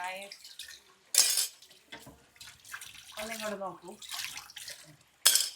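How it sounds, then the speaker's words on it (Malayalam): Steel dishes clattering and scraping while being washed, with sharp metallic clinks and splashes, close by, mixed with talking. "പാത്രം കഴുകാനാണ് നിങ്ങൾ കണ്ടുകൊണ്ടിരിക്കുന്നത്"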